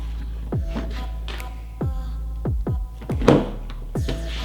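A rivet nut tool pressing a rivet nut into a car's widebody panel, heard as a series of dull, spaced thunks and clicks over a steady low hum, close by.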